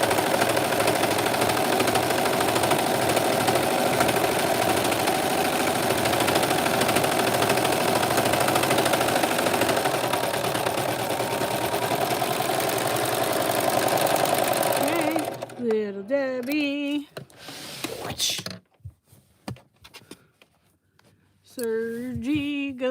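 A serger sewing machine runs loudly and steadily for about fifteen seconds, a fast close mechanical whirr, then stops abruptly, and someone talks excitedly afterward.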